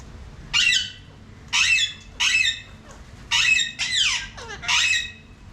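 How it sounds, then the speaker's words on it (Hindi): A parrot in Indroda Nature Park, Gandhinagar, lets out repeated loud harsh squawks while eating, about six bursts spread unevenly with short gaps, close to the listener and heard on its own without talk. "अभी तो तोता महाशय सारे लंच खा रहे हैं।"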